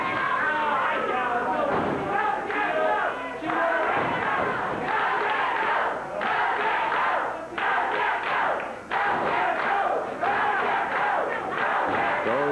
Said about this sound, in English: Go, Jeff, go, the crowd says.